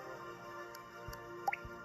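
Water droplet pickup in the video game Ants vs Robots: a brief liquid drip sound with a small bright blip, faint over a steady game background hum.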